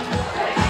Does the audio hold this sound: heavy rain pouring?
no